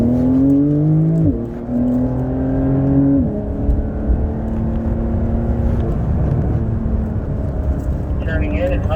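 A Porsche sports car engine drones steadily on a racetrack, its pitch stepping up through gears as it accelerates, with a voice talking over the engine noise.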